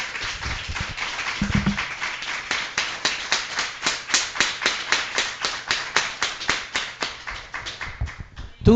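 A church congregation claps together for God in a steady, rhythmic beat of sharp, evenly spaced claps running for several seconds, loud and close, with a brief low murmur early on.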